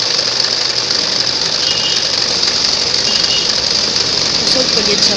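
Toyota 461 home sewing machine running steadily under foot-pedal control, a continuous close mechanical whir with a fast, even stitching rhythm and no break across the stretch.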